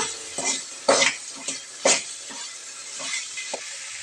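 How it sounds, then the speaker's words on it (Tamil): Tamarind stirred in hot oil in a pan for puli gojju, with a handful of scraping strokes and light clinks of a spoon against the pan over a soft, steady sizzle. "புளியை நல்லா ஆயிலில் கிளறி விட்டுட்டு"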